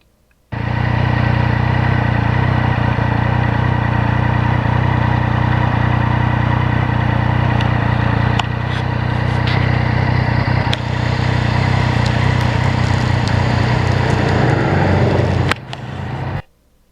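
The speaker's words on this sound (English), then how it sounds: "Such a nice mellow sound from that cross-plane triple." A Yamaha MT-09 (2020) cross-plane triple engine runs loudly and steadily at a low, mellow drone while riding on wet, salty roads, with brief shifts in pitch, then cuts off abruptly near the end.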